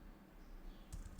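Keystrokes on a computer keyboard while entering a Node.js command in a terminal, a quiet run of soft taps giving way to a few sharper clicks near the end.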